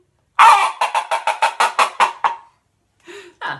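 A string-and-cup noisemaker pulled firmly down its string, giving a loud, close run of about nine rhythmic squawking clucks like a chicken, then a pause and two shorter squeaks.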